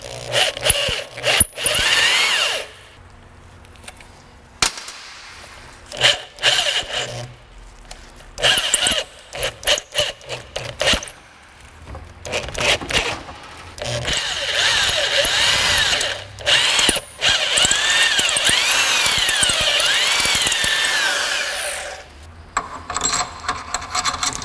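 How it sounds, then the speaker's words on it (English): A power drill bores into an aluminum alternator bracket on a brand new alternator, giving loud, repeated whining and grinding bursts separated by short pauses, with a long continuous run near the end. "Now I'm drilling into aluminum."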